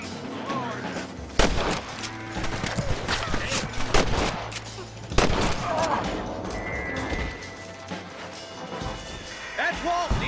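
Gunfire cracks in a Red Dead Redemption shootout, with single loud shots and rapid bursts alongside smashing impacts, and voices talk between the shots.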